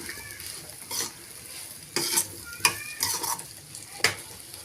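Cauliflower and egg stir-fry being stirred in a pan, with sizzling frying and several distinct scraping stirs and utensil clatters against the pan, close and fairly loud, no talking.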